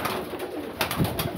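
Chapra pigeon and golden female pigeon cooing close by, with soft, low repeated coos over a steady background hiss.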